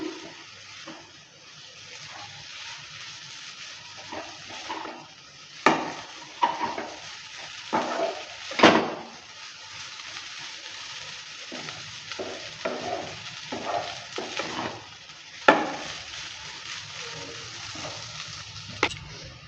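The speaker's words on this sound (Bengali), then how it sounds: "রিফাইন অয়েলটা দেওয়ার পর ভালো করে আবারও নেড়ে চেড়ে নিচ্ছে" Veg chowmein being stir-fried in refined oil, with a constant low sizzle broken by repeated scraping and clattering strokes of a spatula against the pan, some louder than others, and no speech.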